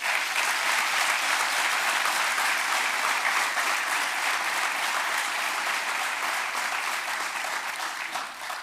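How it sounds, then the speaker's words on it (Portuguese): A municipal assembly audience gives the outgoing councillors a long round of applause at a swearing-in ceremony for new local officials. The dense, even clapping fills the room and holds for several seconds before starting to thin at the end. "Uma grande salva de palmas para eles."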